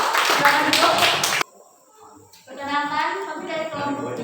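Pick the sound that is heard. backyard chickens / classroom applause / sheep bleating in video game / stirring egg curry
classroom applause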